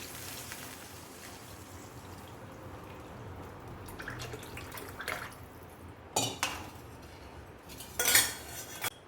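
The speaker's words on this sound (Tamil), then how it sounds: "இந்த கரைச்சி வைக்கிற வச்சிருக்கிற புளி தண்ணியை அதை கொட்டிடலாம்" Tamarind water is poured into a simmering kuzhambu of taro root, with faint clinks and brief splashing bursts over a quiet kitchen background, the louder pours coming in short spurts near the end.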